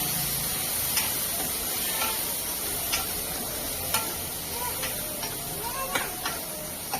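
Tomato pieces sizzle and hiss steadily in a hot pan, with occasional stirring clicks and scrapes spaced about a second apart, close and continuous.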